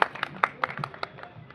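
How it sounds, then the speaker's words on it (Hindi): A small audience at a Brahmin community event in Indore claps in response to the compere. The claps are sparse and fairly faint, about eight distinct slaps at a steady pace over quiet room noise. "एक बार जोरदार तालियां"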